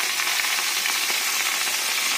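Food frying in a pan for a Bengali malaikari, a steady bright sizzle that holds evenly at close range with no talking.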